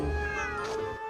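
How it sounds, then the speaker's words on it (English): A cat in a community street of Delhi's Lodhi Art District gives one drawn-out meow, close and fairly loud over steady outdoor background noise. "This community seems to be having so many cats here."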